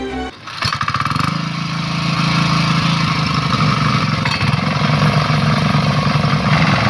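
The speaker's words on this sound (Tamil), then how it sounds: "வாங்க, இப்போ நம்ம மெஷினை ஸ்டார்ட் பண்ணி உழவு ஓட்டலாம்." Power weeder engine starting with a few sputtering pulses, then settling into a steady loud chugging drone while ploughing a field, close by and uninterrupted with no talking.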